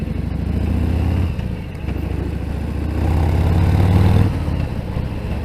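A Harley-Davidson Fat Bob 114 motorcycle being ridden, its engine a steady low rumble that swells and eases with throttle changes, loud and close throughout with no talk.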